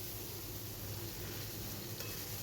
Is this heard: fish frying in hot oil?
yes